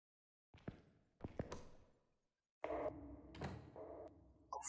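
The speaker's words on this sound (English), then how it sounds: "I just heard a door really close" A door in the Phasmophobia ghost-hunting game, heard as a few hollow knocks and thuds followed by a heavier swinging, creaking close, moderately near with quiet gaps between, no talking.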